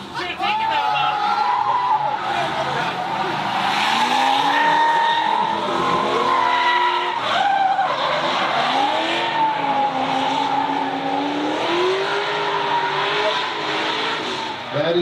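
A drift car driven aggressively at a drifting competition spins out, its tires squealing and skidding over a continuous roaring engine, loud and close, while a commentator talks over the action.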